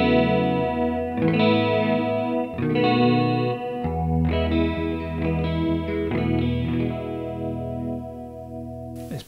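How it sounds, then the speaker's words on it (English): Electric guitar played through the chorus and flanger effects of a Yamaha THR5 practice amp, sustained chords swirling and shimmering one after another, loud and continuous with no talk. "Nice bit of chorus, flanger."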